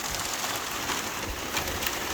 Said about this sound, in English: It's probably a bit loud because of the rain.